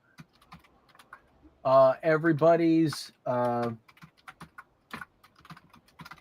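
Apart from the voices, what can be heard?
typing on a computer keyboard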